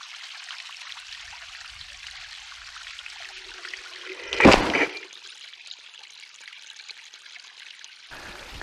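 A small waterfall runs over moss with a steady, soft rushing wash, a brief louder splash or thump breaking in midway before the flow continues alone.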